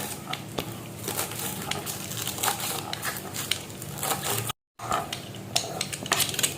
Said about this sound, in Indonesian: ini untuk daun bawangnya kita iris kecil-kecil ya